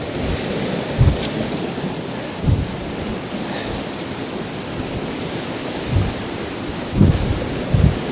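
Wind and rain lash Poole Harbour during Storm Bert, a steady broadband roar broken by several heavy low thumps of gusts buffeting nearby, with no one speaking.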